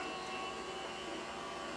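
Partially frozen meat is fed through a meat grinder for sausage. The motor gives a steady, dense whirring drone with no breaks across the short stretch, close and even in level.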